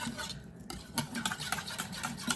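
Whisk stirring protein pudding as it thickens like custard, a soft irregular scraping and swishing against the bowl, quiet and close with no talking.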